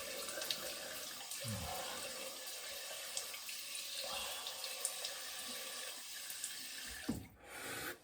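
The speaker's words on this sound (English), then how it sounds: "Cold water rinse." Cold water runs steadily from a bathroom tap into a sink for a rinse after shaving, a close continuous splashing stream with a few small knocks and a brief dip near the end.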